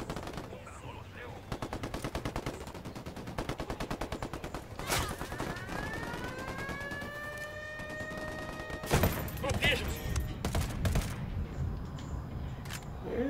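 Heavy gunfire from a Ghost Recon firefight, with rapid automatic bursts rattling close through the first half, then loud, dense volleys and crashes. A rising whine sweeps upward midway.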